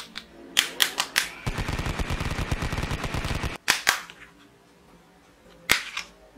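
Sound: musical Chinese toy gun with LED light and sound

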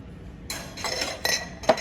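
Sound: glass jars clinking while handled in a store

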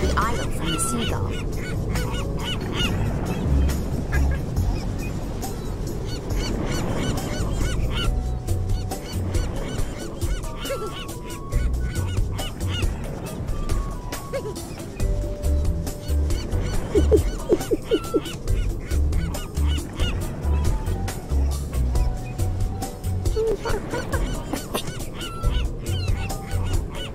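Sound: seagull calls in Curious George video game

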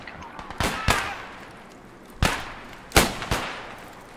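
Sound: gunshots in video game

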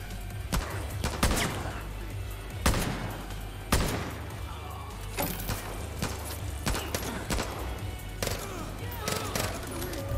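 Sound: SMG gunfire in video game Far Cry New Dawn

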